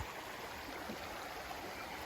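A small stream flows at a trail water crossing where a bridge washed out, a steady soft rushing wash with no breaks, fairly faint and continuous, no voices.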